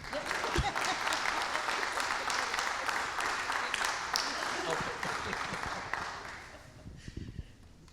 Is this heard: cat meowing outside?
no